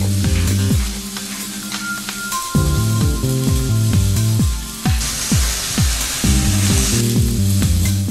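Pork sirloin browning in a Kuhn Rikon Durotherm pot gives a steady, close sizzle of frying meat that runs throughout, partly layered under background music.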